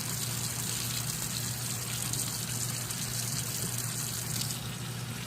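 Water runs steadily from a tap while a makeup brush is rinsed, a constant close hiss of flow with no breaks and no voices.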